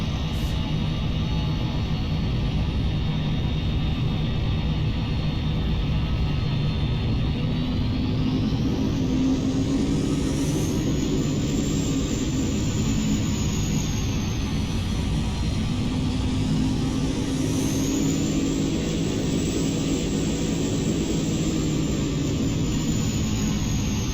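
Cessna 208B Grand Caravan single turboprop taking off in the flight simulator X-Plane 12, a loud, continuous engine and propeller roar with a rising and falling whine as power and pitch shift, sustained throughout with no talk.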